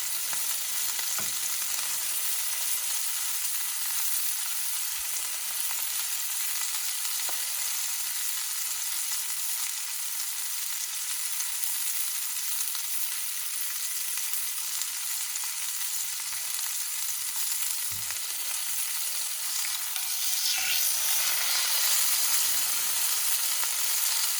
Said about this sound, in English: Want to hear a nice sizzle, turn it up if you have to.